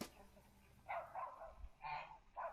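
Geese honk in a few loud, agitated bursts over quiet background noise, a short flurry of alarmed bird calls as a crow swoops down toward them.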